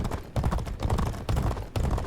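Galloping horse hooves in a G1 Jockey 4 racing game, a steady rhythmic clip-clop beating in regular groups, loud and close, with no talk over it.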